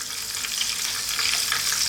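Sardines fry in hot oil in a pan, giving a steady, close, moderate sizzle with soft crackling that runs without a break.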